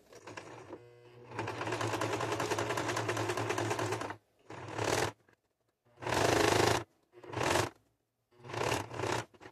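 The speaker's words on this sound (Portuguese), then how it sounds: "vou abaixar minha agulha e vou começar a costurar" Domestic sewing machine stitching fabric with the presser foot and needle lowered, a steady mechanical whirr running for about four seconds, then three shorter bursts of stitching separated by pauses, close and clear.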